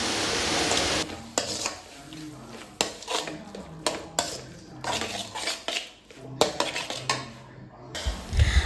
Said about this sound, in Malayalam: ആ ക്രീമും കൂടി ഇട്ട് നമുക്കതൊന്ന് നല്ലപോലെ ഒന്ന് യോജിപ്പിച്ച്